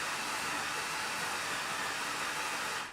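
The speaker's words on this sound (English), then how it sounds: "Can you hear my coffee machine going?" A coffee machine runs with a faint, steady whooshing hiss and hum, continuous and unchanging throughout, heard alone at a distance.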